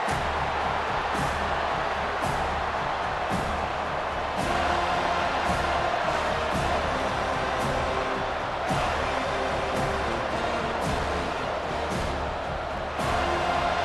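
A home crowd at a college football game between California and Florida State roars steadily in a large stadium, a dense, continuous wall of cheering with no clear talk on top.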